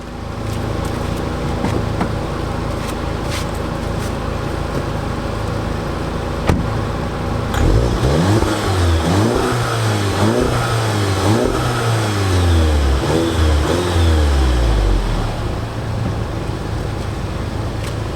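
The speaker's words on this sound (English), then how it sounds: "let's have a listen of the exhaust and see how she sounds" A 2015 Volkswagen Golf GTI idles with a steady low rumble, then the exhaust barks through several throaty revs that climb and fall, close and loud.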